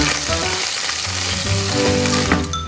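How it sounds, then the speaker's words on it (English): Loud, steady sizzling of fat frying in a pan, a continuous crackling hiss with no voices. "The sound of frying fat is very sweet."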